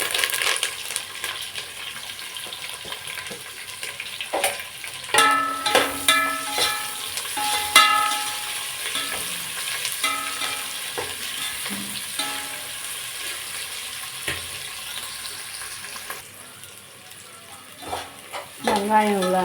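Onions, green chillies and curry leaves sautéing in a pan, with continuous close sizzle and frequent metallic clinks and scrapes of a ladle stirring, busy and fairly loud throughout, no talking.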